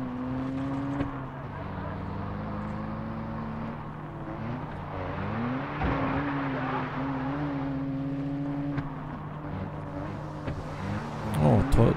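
A car engine drones steadily while driving in the game Far Cry 4, with a sustained tonal hum that shifts pitch as it revs, growing louder and busier near the end.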